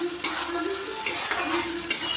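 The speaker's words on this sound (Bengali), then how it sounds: "পেঁয়াজ আর টমেটো ভাজা হয়ে গেছে" Onion and tomato frying in a pan with salt and a little sugar, a steady close sizzle broken by three sharp scraping stirs at even intervals.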